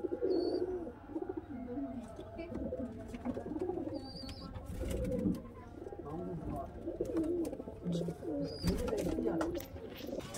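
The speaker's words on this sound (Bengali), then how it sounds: "একটা জায়গাতে স্ট্যান্ডিং দেখাচ্ছি সব পায়রা" Pigeons coo repeatedly in a pigeon loft, soft overlapping throaty calls with occasional chirps and brief wing noise, while people talk nearby.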